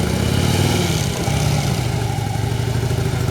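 A motorcycle engine idles and putters at close range, a steady low rumble with a brief dip before it settles back to a rough idle.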